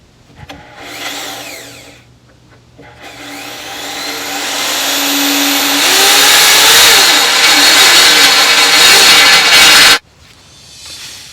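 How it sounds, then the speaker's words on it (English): A drill bores holes through a steel bumper on an FJ40 Land Cruiser, the bit's whine rising loud and grinding as it bites in, then stopping abruptly near the end. "I'm going to go ahead and start with a small drill bit and work my way up to about a 3/4 inch diameter."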